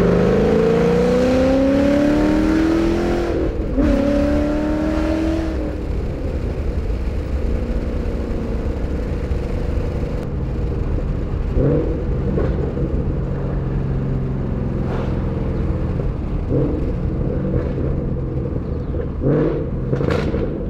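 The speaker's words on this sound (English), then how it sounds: "You can just buy the axle back, keep your mid pipe or over axle pipes, and just cut off the resonators and still sounds great." A Ford Mustang GT with an axle-back exhaust and its resonators cut off revs twice at the start, then settles into a steady, loud, deep rumble with a few short blips of throttle, and no one talks.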